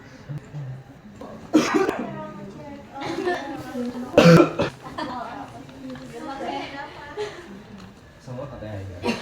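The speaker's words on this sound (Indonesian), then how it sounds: "Lah batuk dong Bu, emang batuk." A patient coughs during nasogastric tube insertion in a clinical setting, several sharp coughs and throat-clearing bursts at moderate level, mixed with quiet talk between people nearby.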